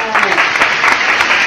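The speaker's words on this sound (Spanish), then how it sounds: "¡Fuerte el aplauso!" A studio audience applauds as chef Pepe is introduced on a cooking show about making soup, with dense steady clapping sustained at an even level throughout and some speech-like sound mixed in.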